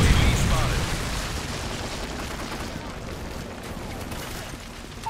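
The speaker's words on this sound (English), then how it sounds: "Friendly predator missile inbound." A predator missile explosion in Call of Duty MW3 team deathmatch opens with a loud blast that decays into a long rumbling tail under continuing gunfire and battle noise.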